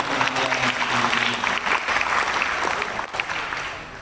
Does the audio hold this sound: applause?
yes